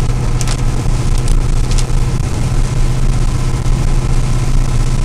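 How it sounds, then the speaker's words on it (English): A 1985 Ford F250 diesel idles steadily and loudly, its low, even rumble continuous throughout with faint ticking on top and no speech. "But if you can hear that diesel, she's sounding good."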